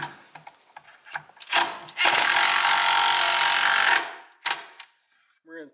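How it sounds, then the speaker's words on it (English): A small impact driver tightens a nut on a tube-style otter trap, running in one loud close burst of about two seconds between shorter clanks and handling noises. "We're going to run this little impact"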